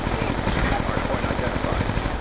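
Rapid automatic gunfire from Call of Duty: Black Ops 2 multiplayer in a hardpoint match, a dense stream of shots rattling steadily for the whole stretch, loud and close with game sounds layered over it.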